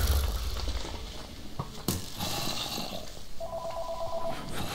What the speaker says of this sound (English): Answer that freaking phone!